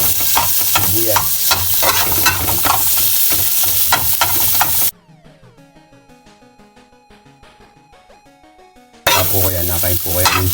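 Onions for chicken feet adobo sizzling and frying in a pan, a loud, close, steady crackle that drops away to quiet background music for a few seconds before the frying returns.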